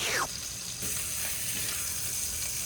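Steak frying in a pan gives a steady, close hiss of sizzling fat that holds evenly throughout, with no voices.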